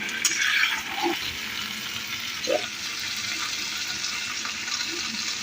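Mutton kosha fries in a pan, a low, steady sizzle with a few soft scraping stirs and faint watery clinks, moderately distant and quiet.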